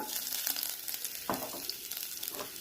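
Finely chopped ginger sizzles and fries in a pan with cumin seeds, a steady crackling hiss with occasional stirring scrapes, close and continuous with no talk.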